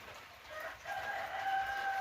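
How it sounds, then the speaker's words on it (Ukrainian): A rooster crows somewhere in the distance in a village under an overcast sky, a drawn-out call rising over a steady outdoor hiss. "А півень співає"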